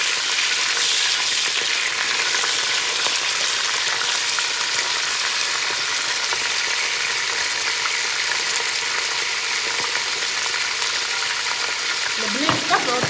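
Onion sizzling in hot oil for a Tunisian lamb pasta, a steady dense crackle running the whole time at constant loudness, with a brief clatter near the end.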